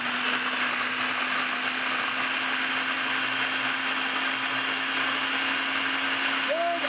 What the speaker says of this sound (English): in the food processor, I'm going to put about 3 slices of whole wheat bread in.